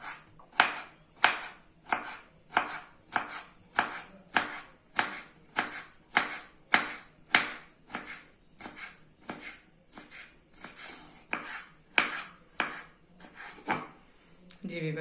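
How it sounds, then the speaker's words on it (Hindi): A knife finely chops deseeded vegetables for a spicy masala corn chaat in quick, even strokes against a board, about two per second and close by, with a faint voice under the later cuts. "और इसको बिल्कुल बारीक बारीक चॉप कर लेंगे।"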